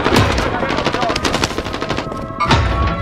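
Rapid automatic gunfire from a weapon in Call of Duty: Modern Warfare, loud and continuous bursts across the whole stretch with a sharper pair of shots near the end, game sound effects layered underneath.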